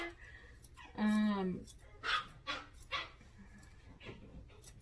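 A Maltese-type dog barks off in the background during home grooming, a burst of yips and a whimper followed by a few shorter barks, while a person talks nearby.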